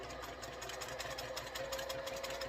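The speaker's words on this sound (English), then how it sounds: "I'm just going to chain stitch, and I'm going to sew directly on that line from corner to corner" A sewing machine runs steadily in a chain stitch, sewing fabric along a marked diagonal line from corner to corner of a quilt heart block, with a continuous even mechanical whir and no pauses.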